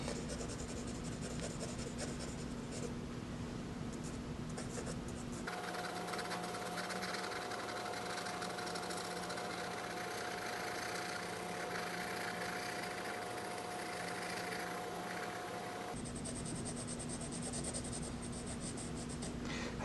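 A pencil works across paper while a gridded self-portrait is marked out, a soft continuous scratching close up under steady background hum, with no talking.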